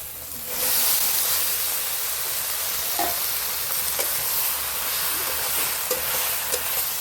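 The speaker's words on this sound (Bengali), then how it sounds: "এবার আমি কষে রাখা ঝিঙে আর আলুটা ওর মধ্যে দিয়ে দিচ্ছি।" Sautéed ridge gourd and potato go into a pan of frying prawns, raising a loud, steady, close sizzle and hiss with occasional stirring clinks and crackles throughout.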